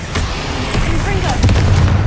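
A Confringo blasting spell explodes in the video game Hogwarts Legacy, a dull, rumbling boom with crackling bursts, heard under a shouting voice.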